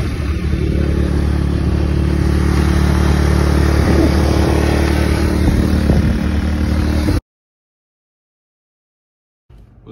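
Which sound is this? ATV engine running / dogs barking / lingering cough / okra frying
ATV engine running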